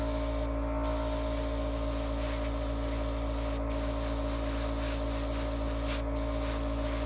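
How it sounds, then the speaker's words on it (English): Airbrush spraying a thin mist coat of Vallejo paint over an Age of Sigmar Lord of Plagues miniature, a steady close hiss over a constant compressor hum, briefly paused a few times. "This is just a mist coat to kind of uniform everything out."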